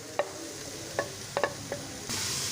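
Fried chicken being stir-fried with carrots and spring onion for chicken noodles: a low sizzle under several distinct scraping strokes of a spatula, ending in a louder rush of hissing.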